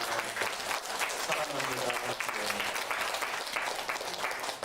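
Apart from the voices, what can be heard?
congregation applauding parents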